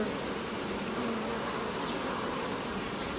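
Honeybees buzz densely inside an opened beehive during a summer hive inspection, a loud, close, continuous hum that holds steady throughout.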